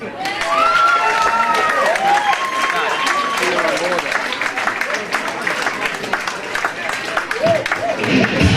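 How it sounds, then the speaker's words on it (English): Audience applause fills a hall at a youth football club's under-15 award presentation night, steady clapping and some cheering throughout, with voices murmuring over it. "he's due a fantastic round of applause for everybody"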